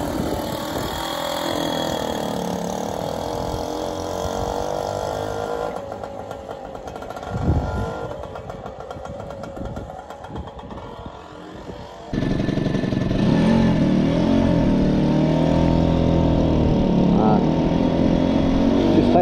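A BSA Ariel 3 classic motorcycle engine runs and rides off, a mid-pitched buzzing engine note rising and falling with throttle, dipping briefly before louder, steady riding noise with wind takes over.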